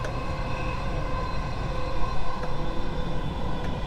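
A Dubai Metro train runs with a steady, moderately loud mechanical rumble and hum that swells slightly midway, continuous throughout with no talk.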